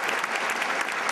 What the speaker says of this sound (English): Can I have a round of applause for the graduates,